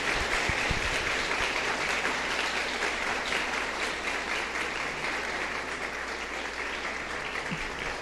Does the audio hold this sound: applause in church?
yes